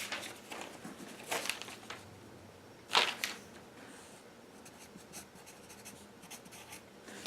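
Pen writing on paper while accounting figures for a tire inventory are worked out, with scratchy strokes in short bursts and one sharper tap partway through, close and fairly quiet.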